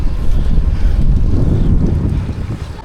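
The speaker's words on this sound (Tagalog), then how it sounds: "Malakas ang ihip ng hangin na sumasalubong sa amin." A strong headwind buffets the microphone during a bike ride, a loud, continuous low roar that swells and eases without a break.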